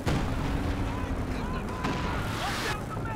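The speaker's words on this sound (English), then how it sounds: "That was the artillery officer, mortar barrage, getting dropped there, clearing out that MG." Mortar barrage in Company of Heroes 2, a 4v4 battle on Whiteball Express: heavy booming impacts and rumbling blasts in quick succession, loud and dense, with a voice commenting over the explosions.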